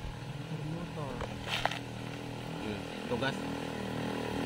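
A motorcycle engine buzzes past in a rural province setting, a steady droning rumble with brief louder swells, heard alongside people talking nearby.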